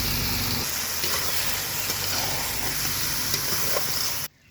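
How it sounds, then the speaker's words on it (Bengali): Steady, loud sizzling and hissing as boiled jute leaves hit prawns frying in oil, continuing evenly with no voice before cutting off abruptly at the end. "এবার সেদ্ধ করে রাখা পাট শাকটা এইবার দিয়ে দেবো।"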